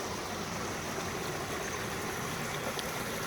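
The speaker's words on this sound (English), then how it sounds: "you can see Jim collecting some water for us. Out of this beautiful creek" Water from a clear creek running steadily beside a waterfall as a 3-liter CNOC bag is filled, a continuous close rushing and trickling wash with no talk.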